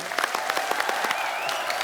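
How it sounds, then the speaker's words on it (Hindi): Steady applause from an audience, a dense patter of clapping that carries on without pause. "जोरदार तालियां"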